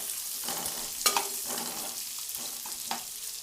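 Long-cut onion slices frying with cumin seeds in a pan for jeera rice, a soft sizzle broken by several scraping stirs and one sharp clink, close and fairly quiet, no talking.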